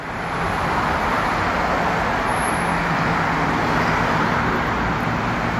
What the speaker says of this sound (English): And now here comes two buses.